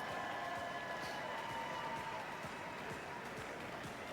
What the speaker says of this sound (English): Big crowds of British athletic supporters there, just cheering him.